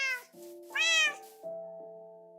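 A video game cat meows repeatedly, several clear, close, whiny meows in sequence over a soft sustained chord of background music.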